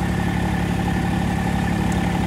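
A Ford 3000 tractor engine idles close by with a steady, even low rumble that continues alone and unbroken throughout.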